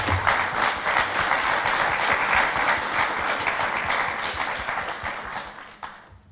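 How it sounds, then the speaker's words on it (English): Conference audience at a plenary session breaks into loud, sustained applause, a dense roar of many hands that holds steady before tapering off at the end. "I just wanted to hear an applause."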